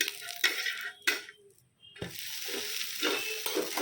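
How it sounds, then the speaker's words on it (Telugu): Dosa batter hits a hot pan, giving short bursts of sizzling hiss mixed with light scraping and utensil clinks, close and fairly quiet, with a brief silent gap. "ఇఫ్తార్ కోసం దోశలు అయితే వేసేస్తున్నాను"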